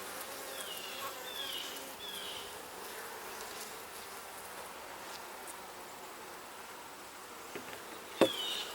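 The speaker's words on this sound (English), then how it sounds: "There's actually a decent number of bees in this box, so it's a good sign." Honey bees in an open hive box during an inspection keep up a steady, dense buzzing throughout, close and continuous, with a short clatter near the end.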